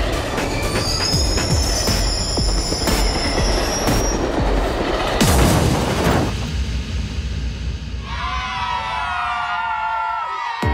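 A cartoon train runs along the tracks, a loud continuous rumble with rattling wheels and high metallic squeals, near and unbroken throughout.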